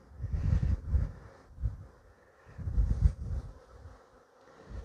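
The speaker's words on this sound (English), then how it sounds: "There's bees hanging out everywhere here." Bees buzzing around a beehive during spring queen-rearing work, a low droning hum that swells and fades in several uneven waves as insects fly close past, with no talk.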